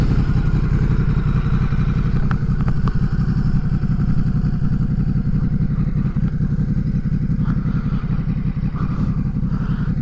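Ducati Multistrada 950S motorcycle engine rumbles loud and close with a dense, steady low throb and some mechanical clatter, holding a constant level for the whole stretch rather than fading away.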